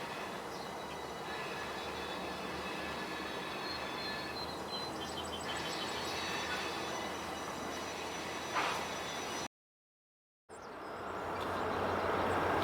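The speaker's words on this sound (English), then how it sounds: "That train is empty coal drag Y95, returning to the mines in southwestern Pennsylvania." A Norfolk Southern empty coal freight train, Y95, rolls past with a steady broadband rumble of wagons and wheels and faint high squeals, continuous and fairly near, and the sound swells again after a brief dropout.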